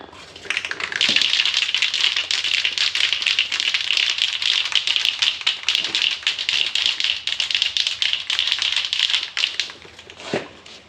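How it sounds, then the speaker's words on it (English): A truck part is spray painted up close: a steady, loud hiss of spray runs almost without a break for about nine seconds, with brief dips between passes before it cuts off. "So let's go ahead and get some of this sprayed down"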